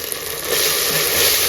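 Turmeric, chili and coriander powder frying in a pan give a brief, steady hiss that swells slightly louder after a moment, close and continuous.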